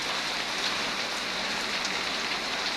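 Steady rain falling around a house, a dense, even hiss of drops hitting surfaces that holds unchanged throughout with no voices over it.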